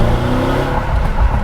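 A Mercedes-Benz S500 Coupe S-Class engine hums and revs steadily from inside the car with a window open while driving, a continuous low rumble with road noise.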